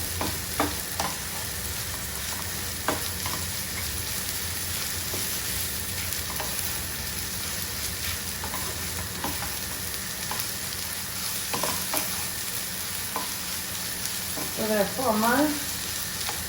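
Breakfast sausages sauté in a pan with a steady, soft sizzle and frying crackle, stirred now and then with light scrapes and knocks; a voice speaks briefly near the end.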